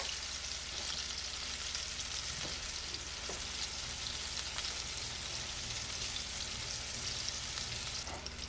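Battered onion rings frying in a pan of hot grease, a dense, continuous crackling sizzle with a few sharper pops, close and steady, with no talking.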